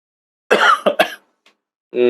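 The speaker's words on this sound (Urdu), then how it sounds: "کھانسی آ گئی" A few harsh, close coughs in quick succession, followed after a pause by the start of a voice.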